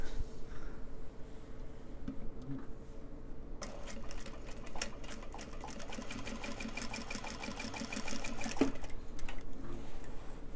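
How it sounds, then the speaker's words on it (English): A sewing machine stitches drawstring channels while sewing garments ahead of a craft show, with dense rapid ticking of the needle running steadily and close. Its rhythm picks up and grows busier partway through. "Got 3 more to do the drawstring channels on, and then we'll move on to doing the top stitching."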